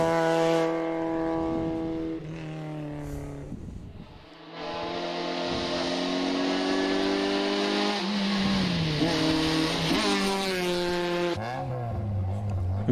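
Rally car at a mountain hill-climb practice run, the third heat, roaring past with a loud, sustained engine note that climbs and drops through gear changes as it passes close by, with no talk.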